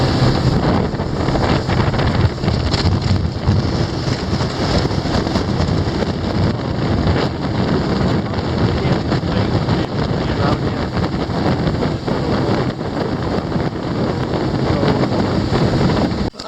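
A fishing boat cruises on open water at 27.6 mph, giving a steady, loud roar of engine, hull and wind rush that lasts the whole stretch with no break.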